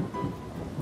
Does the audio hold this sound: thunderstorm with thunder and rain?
yes